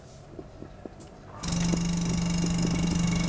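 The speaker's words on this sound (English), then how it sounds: "once I suck the air out using this vacuum pump" An electric vacuum pump switches on partway through, drawing air out of a covered container of Coke and acidified water, a steady loud mechanical hum and whir that continues without a break after a quiet opening.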